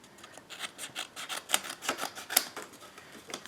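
Folded cardstock for a Valentine card being trimmed, a rapid series of close, crisp scraping strokes with a steady rasping rhythm and no voices.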